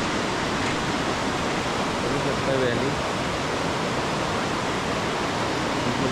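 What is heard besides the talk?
Dudh Koshi river flowing below a suspension bridge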